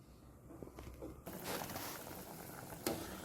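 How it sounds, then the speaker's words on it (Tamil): Pasta boiling in a covered pot on the stove gives a steady, moderately loud bubbling hiss that swells after a soft start, with a few brief clinks or pops over it. "இப்போது இது நல்லா கொதிக்கட்டும்."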